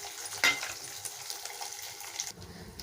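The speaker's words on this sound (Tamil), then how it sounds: "இது நல்லா வதங்கட்டுங்க." Onion, garlic and curry leaves sauté in a pan for a Tamil garlic kulambu, giving a steady low sizzle with soft crackles and a brief louder scrape near the start, then fading as the frying quiets.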